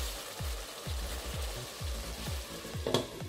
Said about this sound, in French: on va couvrir et laisser notre viande rissoler pendant 5 à 6 minutes